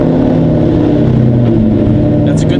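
A Ford Mustang with a freshly built motor runs loud and close, its engine holding a steady, rough idle with a slight swell in revs and a short higher burst at the end.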